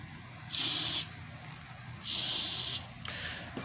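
A Lysol disinfectant spray can hisses in two sustained bursts about a second long each, close and loud, followed by a shorter faint spray, with quiet between.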